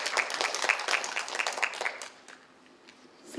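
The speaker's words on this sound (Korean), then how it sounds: "박수로 맞이해 주세요." A small audience at a volunteer event claps to welcome a speaker, moderate applause that fades out after about two seconds, leaving a quiet room with a faint hum.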